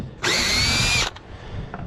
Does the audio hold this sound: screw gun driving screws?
yes